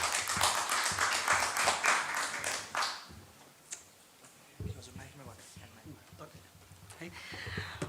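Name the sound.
audience applause welcoming a speaker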